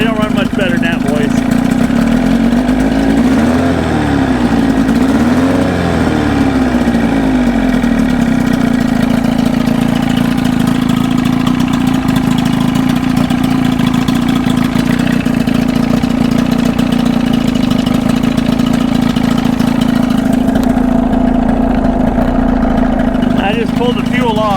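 A 1979 Evinrude outboard motor on a 1972 Glasspar boat idles steadily and loudly for the whole stretch, a constant droning hum with slight wavering early on, and a voice briefly over it.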